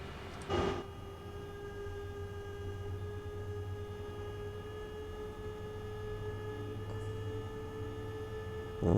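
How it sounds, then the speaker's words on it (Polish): Freight train with two locomotives and container wagons slowly starting to move in Train Sim World 4, a steady low rumble and sustained engine drone with a sharp clank near the start and another brief knock later. "A nasz skład powoli ruszy."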